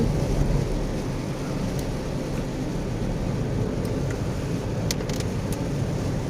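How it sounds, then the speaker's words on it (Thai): Heavy rain drums on a moving car under a constant low road rumble, the wash of water steady and loud throughout. "ฝนตกอันตราย"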